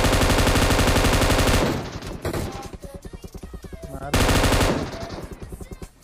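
Automatic gunfire in the video game PUBG, with two loud sustained bursts of rapid shots separated by quieter scattered single shots.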